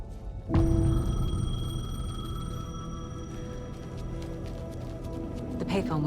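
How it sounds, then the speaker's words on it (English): A payphone rings in Alan Wake II, a steady electronic tone that starts abruptly and holds loud and unbroken for several seconds. "The payphone was ringing."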